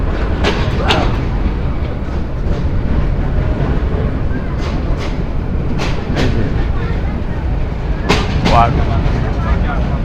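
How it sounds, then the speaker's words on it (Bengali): Sagorika Express train running fast on rails, a steady loud rumble with rhythmic clacks throughout, voices talking over it at times. "এই ট্রেন এত দ্রুত,"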